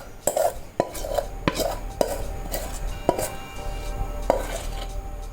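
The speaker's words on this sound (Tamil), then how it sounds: "வலிச்சுட்டு ரெண்டு தரம் டேப் பண்ணணும் அப்போ தான் ஏர் பபிள்ஸ் போயிடும்" Tapping a cake tin of plum cake batter on a counter makes a series of sharp, close metallic knocks, spaced irregularly over a soft background hiss.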